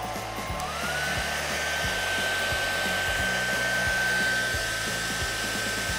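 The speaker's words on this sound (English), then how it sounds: "If I take a hairdryer and a ping pong ball" A hair dryer blows with a steady, loud whirring rush, its pitch rising slightly as it spins up, running continuously throughout.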